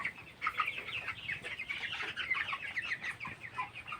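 A flock of 22-day-old broiler chickens on a poultry farm clucks and chatters continuously, a dense, busy layer of overlapping calls with no talking.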